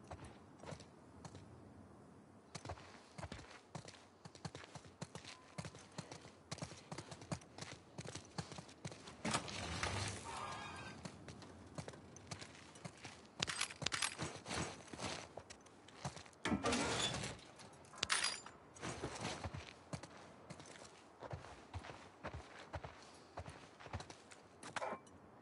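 Horses' hooves clip-clopping in The Last of Us Part II gameplay, irregular clattering steps at close range with creaks and occasional louder bursts, no talk.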